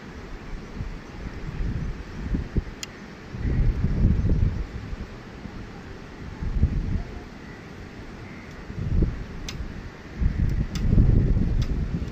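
Wind gusting outdoors at a fishing spot, buffeting the microphone in rough surges that rise and fall, with rustling underneath and no talk.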